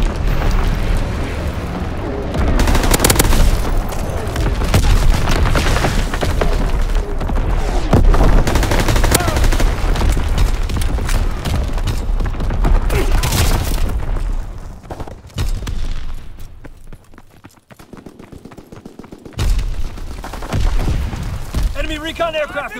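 An MP40 submachine gun in Call of Duty WW2 fires in dense, loud bursts amid booming explosions and battlefield noise, with voices calling out over the din before the shooting thins near the end.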